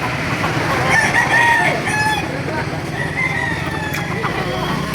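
Chickens and roosters at a Laguna poultry market, several cocks crowing in turn over steady clucking and crowd hubbub, moderately near and loud throughout.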